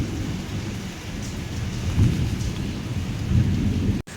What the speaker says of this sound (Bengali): জোর বৃষ্টি হচ্ছে